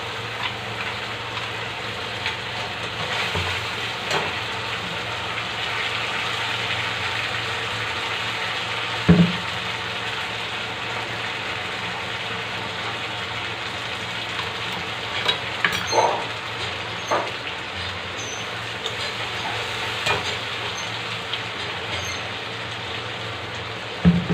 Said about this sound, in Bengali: পেঁয়াজ ভেজে নেওয়ার পর দিয়ে নেব আদা রসুন শুকনো লঙ্কা একসঙ্গে পেস্ট করে রাখা